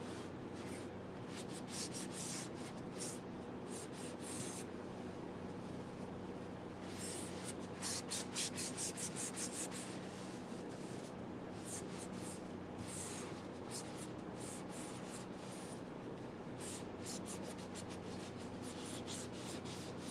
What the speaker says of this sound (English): take any kind of lint-free rag and wipe off any excess so that it's not heavier than you want it to be